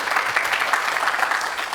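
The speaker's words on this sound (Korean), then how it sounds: "박수 한번 쳐주시죠" Applause from an audience at a televised Korean event on big data and AI, a steady dense clapping that holds throughout without a break.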